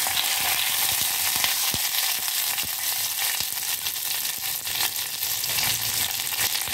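Green mango, curry leaves and green chilli frying in a pan for murungakkai and mango sambar, giving a steady loud sizzle with occasional crackles and light stirring, no voices.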